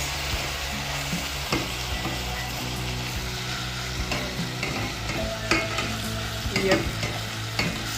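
Tomatoes cooking down into a paste in a pot for a meat stew, with a steady close sizzle and occasional stirring scrapes; a voice gives a brief word.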